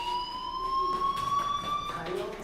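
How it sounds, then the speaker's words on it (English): Fire alarm in the video game Life is Strange, a steady electronic tone sounding continuously with overtones while people talk over it. "Hey, do you hear that fire alarm?"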